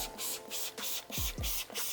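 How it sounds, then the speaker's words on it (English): Repeated short bursts of spray hiss from a trigger bottle spraying wheel acid cleaner onto a rubber car mat, several pumps in quick succession, close by with a few soft knocks between. "Spray it all on."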